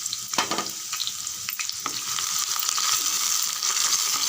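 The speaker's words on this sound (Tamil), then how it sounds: "நல்லா ஒரு 3 நிமிஷம் வதக்கி விடுங்க" Two chopped onions and curry leaves sautéing in hot oil for tomato kuzhambu, a continuous bright crackling sizzle with a few sharper pops and stirring scrapes near the start.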